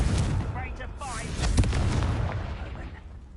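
A Confringo explosive spell cast in the Hogwarts Legacy video game, heard as a loud burst with a booming mid-clip blast over rumbling battle noise and some background voices.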